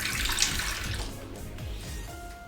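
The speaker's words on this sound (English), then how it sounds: "Wash my hand again." A kitchen tap runs while hands are washed, a close steady splashing stream that fades slightly toward the end, with no one speaking.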